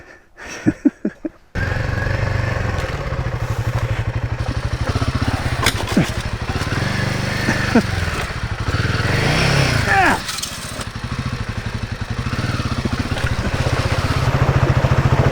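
A Himalayan 450 adventure motorcycle is ridden over an obstacle in a bash plate test. A few sharp clicks come first, then a loud, close single-cylinder engine revs and labours continuously with scraping and clatter.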